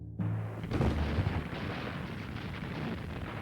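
Dense, roaring battle noise from German machine guns firing on Allied infantry amid craters and rubble in wartime Italy: a continuous, heavy rumble of overlapping blasts that fills the whole stretch without pause.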